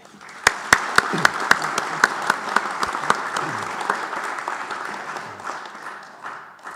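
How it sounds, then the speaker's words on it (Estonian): Conference audience at a Tartu Peace Treaty event breaks into steady applause, opening with sharp distinct claps that thicken into a dense, even roar and then slowly thin out; a voice murmurs faintly underneath. "Teeksime talle äkki ühe aplausi"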